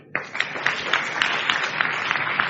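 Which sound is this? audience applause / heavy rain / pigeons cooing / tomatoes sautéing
audience applause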